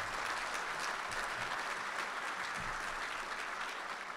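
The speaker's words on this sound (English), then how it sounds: "A round of applause," Sustained, dense applause from a crowd at a Marine Corps logistics awards dinner, even and continuous throughout.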